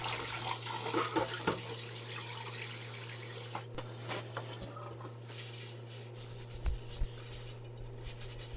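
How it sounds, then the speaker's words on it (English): Hot water runs and splashes while a cast iron Dutch oven is rinsed without soap, a steady rushing flow with scattered scrubbing knocks and clatters, fairly quiet and free of talk. "Clean the Dutch oven with hot water only."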